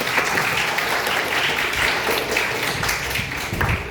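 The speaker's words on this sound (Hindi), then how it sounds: "अपने लिए ताली बजा लीजिए सब लोग" Dense, steady clapping from a large audience fills the whole stretch at a Rajasthan Police department counselling session for children, loud and continuous without talk over it.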